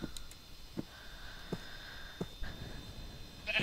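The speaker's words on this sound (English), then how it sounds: "Hello, sheep." Sheep in a video game bleat several times in short, separate calls spaced about a second apart. The calls are moderately clear over a steady low background hum, with a brighter chime-like tone near the end.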